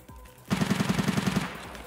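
A rapid burst of automatic gunfire in Escape from Tarkov, about ten evenly spaced loud shots over roughly a second, fading into a short echoing tail.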